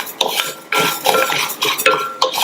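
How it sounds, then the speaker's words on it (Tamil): Spoon scraping and clinking against a pan as sago pearls are dry-roasted over low heat, with irregular metallic stirring strokes close by, no voices. "இதுல நம்ம எடுத்து வச்ச ஜவ்வரிசியை சேர்த்துட்டு நிதானமான தீயில வச்சு இந்த ஜவ்வரிசி நல்லா பொரியிற அளவுக்கு வறுத்துக்கங்க."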